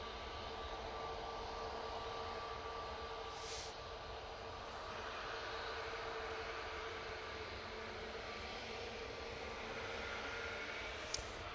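EasyJet Airbus A320neo jet airliner at Manchester Airport, a low, steady engine rumble heard from a distance, fairly faint and constant, with a couple of brief higher hisses.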